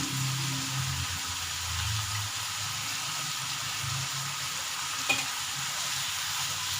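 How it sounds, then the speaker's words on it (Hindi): Garlic paste sizzles steadily in a hot pan with lemon juice while a utensil stirs and scrapes through it, with one brief sharp clink near the end. "और सही तरह इसे फ्राई करेंगे।"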